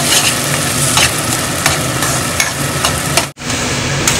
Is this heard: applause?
no